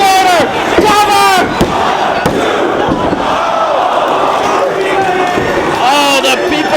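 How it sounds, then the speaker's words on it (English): A wrestling crowd at a Ring of Honor tag-title match roars and chants steadily throughout, loud and dense, with sharp slam-like impacts breaking through and an excited commentator's voice over the top. "This crowd wants Moffett Whitmer to win the tag title"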